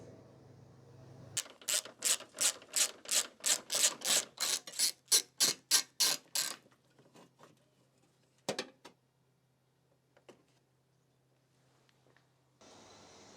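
A ratchet undoing 10mm bolts on a Ford Focus Mk2 windscreen washer tank clicks in a fast, even run of about fifteen sharp pawl clicks close up, followed by a few scattered handling taps and then near quiet.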